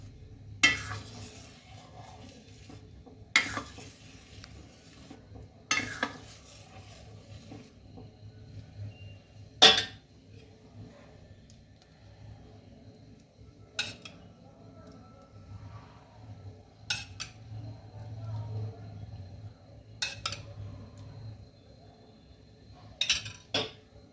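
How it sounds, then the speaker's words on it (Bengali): A spoon clinks against a pot now and then while dudh pitha ingredients are slowly mixed, with sparse, sharp metallic taps over a low steady background hum and no voices. "এইভাবে আমি ধীরে ধীরে এর সঙ্গে মেশাতে থাকবো।"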